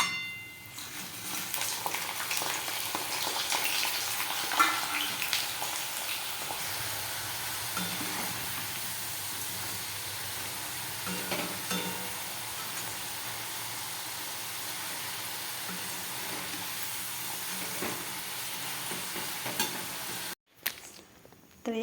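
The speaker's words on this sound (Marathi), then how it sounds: "आता तेल कडक तापून घ्यायचं आणि सगळे आहेत ते एकदम टाकून घ्यायचे" Cut potato strips for French fries sizzling steadily in very hot oil, a dense continuous frying hiss that holds at an even level and breaks off near the end.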